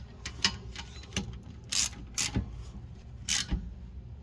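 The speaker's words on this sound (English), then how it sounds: "we'll use a 14mm wrench or socket to tie these down and secure these down" Ratchet with a 14mm socket tightening rear brake caliper bolts on a 2015 Toyota Sienna, heard as several short, close bursts of quick clicking separated by brief pauses.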